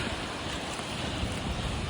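Wind and rain lash Iceland's coast, a steady broadband roar with gusting rumble and surf-like wash, loud and close throughout with no voices.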